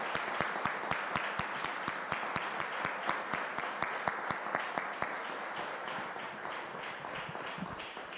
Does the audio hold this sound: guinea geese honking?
no